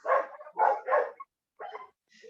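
Dogs at a kennel bark in a quick cluster of three loud barks, then two fainter ones after a pause, heard from a moderate distance with no talking.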